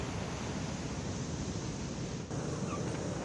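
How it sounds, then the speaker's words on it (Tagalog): Strong storm surf pounding a shoreline in Ilocos during heavy rain, heard as a continuous dense roar of breaking waves mixed with wind buffeting the microphone, steady and fairly quiet with no voices. "sa mga oras nga na ito ay mataas at malakas ang alon sa mga baybayin"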